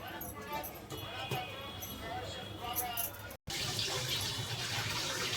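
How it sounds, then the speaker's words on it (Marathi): Water poured into a cooking pan of sprouted moong misal to steam the vegetables, a continuous splashing, gurgling rush close by with a brief cut midway, no speech over it. "ह्याच्यामध्ये थोडासा पाणी टाका"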